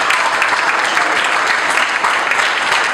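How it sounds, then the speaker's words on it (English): Sustained applause from an audience at an end-of-year celebration, dense and steady throughout, loud and close with no break. "give these folks a round of applause"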